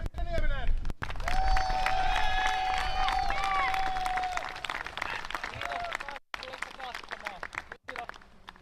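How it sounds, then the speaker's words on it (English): A crowd at the final round of the Turku Open 2023 disc golf event cheers and applauds, a dense roar of clapping and shouts, with voices babbling throughout, fading somewhat toward the end. "the crowd goes wild"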